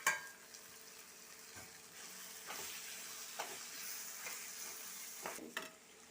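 Chopped onions and spice powders sizzle steadily in a hot pan for a shrimp biryani masala, with a broad hiss and occasional stirring scrapes and clinks, close and continuous with no talking.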